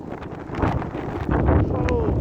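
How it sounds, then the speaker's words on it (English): Blizzard wind gusts buffet the microphone outdoors at the end of a driveway, a loud, rumbling roar that swells and surges for a couple of seconds. "I apologize if it gets windy,"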